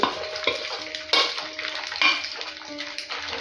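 Chicken pieces for pickle frying on a medium flame, a steady sizzle broken by sharp scraping and clattering bursts of stirring in the pan, fairly close.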